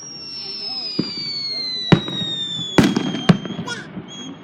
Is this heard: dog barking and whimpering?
no